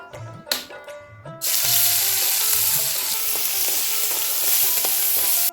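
Spices, green chilli, garlic, onion and ginger hit hot oil with a sudden loud sizzle that holds steady and continuous, after a few clinks of a pan and utensil at the start.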